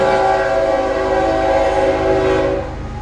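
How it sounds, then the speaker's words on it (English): A passing train sounds its horn in a loud, sustained multi-tone blast over heavy rumbling, close by, the horn fading near the end as the rolling noise continues. "We'll let the train give the train a chance to pass."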